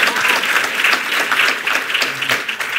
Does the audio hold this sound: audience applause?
yes